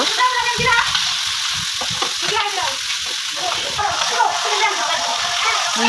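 Fish fry in a hot pan with a dense, continuous sizzle and spatter close by, running steadily throughout while voices talk over it.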